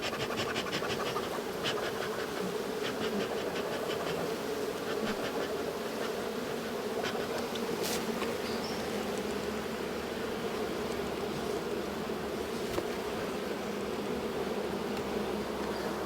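A honey bee swarm buzzes steadily at a hive, a dense, continuous hum close by that lasts throughout without any talking.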